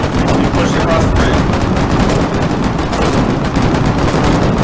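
Dense, continuous gunfire and explosions from a Foxhole battle, loud and unbroken throughout, with a player's voice partly buried underneath.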